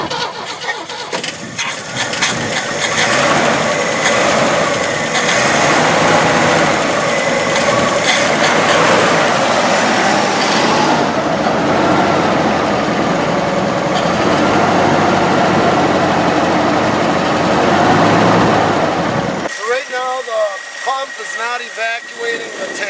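A 1965 Chevy barn-find truck engine cranking and catching on a cold start, then running roughly and loudly for about twenty seconds before cutting off abruptly, leaving quiet background.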